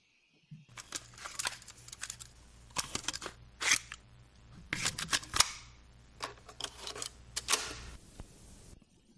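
A cassette tape deck mechanism clicks and clacks in a series of sharp, close mechanical snaps and crunches, irregular in rhythm, some louder than others, with no voices.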